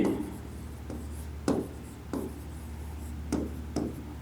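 Chalk or marker strokes on a board in a chemistry class, a series of scratchy writing strokes with short sharp taps between words, fairly close and clear, and no voice over them.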